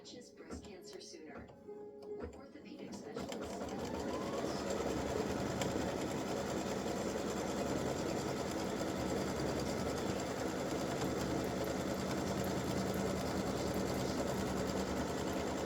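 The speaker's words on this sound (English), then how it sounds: "Now color stop number 3 is going to tack this down." An embroidery sewing machine stitches an applique tack-down, starting after a few seconds of quiet handling and then running as a steady, dense, fast mechanical whir that continues unchanged to the end, with a voice talking over it.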